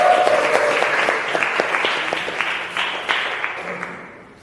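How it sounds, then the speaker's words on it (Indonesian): A classroom audience claps for a student after a presentation, with dense, steady applause at close range that slowly thins toward the end and no voices. "Oke, kasih aplaus untuk Mas Habib"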